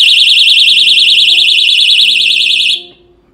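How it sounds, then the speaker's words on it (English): A Veison DX19 V2 motorcycle disc lock alarm rings loud and close in a steady warbling siren for nearly three seconds before cutting off, with faint low tones underneath. "Touch it again, the alarm will ring."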